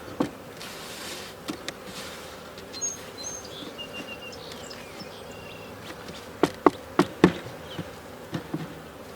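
Honey bees buzz around an open hive while a split is being worked, a faint steady hum with scattered sharp knocks and clicks of frames being handled toward the end.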